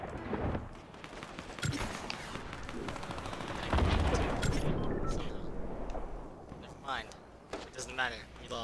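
Rapid AK rifle bursts from the video game Fortnite crackle in the middle distance, mixed with game sounds while a player talks over the action.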